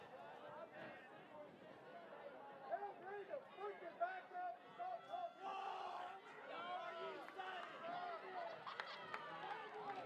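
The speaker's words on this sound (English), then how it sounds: "A lot of loud shouts over here" Fans shouting in the stands at a high school football game, a rowdy crowd of distant overlapping yells and cheers rising and falling over continuous murmuring chatter, with louder bursts toward the end.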